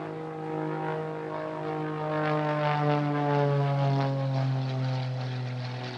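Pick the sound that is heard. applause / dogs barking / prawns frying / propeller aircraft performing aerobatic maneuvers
propeller aircraft performing aerobatic maneuvers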